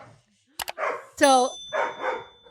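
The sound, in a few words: puppy named Virgil barking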